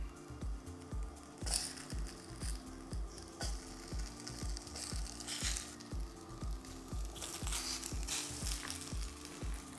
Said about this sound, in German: in die gleiche Pfanne kommt jetzt der Tofu, ebenfalls von beiden Seiten angrillen.